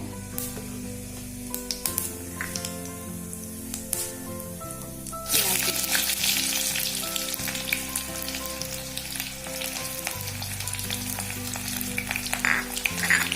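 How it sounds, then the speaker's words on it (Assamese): Whole cumin seeds hit hot mustard oil in a wok, bursting into a loud, continuous crackling sizzle midway that carries on steadily, over a low background hum. "তেল গৰম হৈ আহিলে মই এতিয়া আধা চামুচ জিৰা দিছোঁ, গোটা জিৰা"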